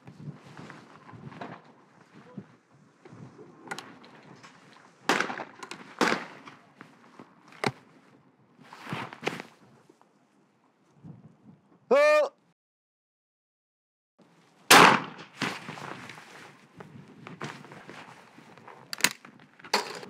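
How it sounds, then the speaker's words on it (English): A shotgun fires at clay targets during down-the-line trap shooting, several sharp, loud cracks spaced seconds apart outdoors, with quieter handling sounds and talk between the shots. "And that's how you shoot targets down the line from the various shooting pegs."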